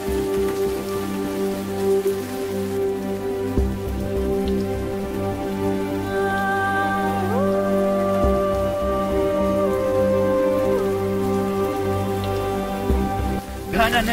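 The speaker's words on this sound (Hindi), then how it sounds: "बारिश हो रही है" Steady rain pattering on a surface, a continuous soft hiss under a sustained musical drone.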